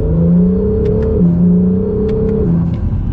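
An Acura NSX supercar driven hard in track mode with manual shifting: a loud, steady engine drone holds, dips briefly at a shift, then climbs again, close-miked inside the car with no talk.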